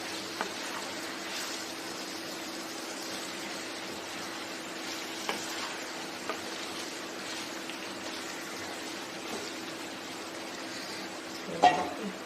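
Brinjal pieces with garlic and chili fry in a pan with a steady, soft sizzle, broken by a few faint scraping stirs and one louder clatter near the end; no voices.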